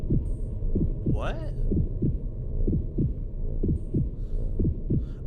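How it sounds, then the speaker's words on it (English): A heartbeat sound effect in the Utawarerumono: Mask of Truth video game throbs in a steady, low, loud pulse that runs throughout, beneath a brief spoken word and faint background tones. "I can hear my heart pounding."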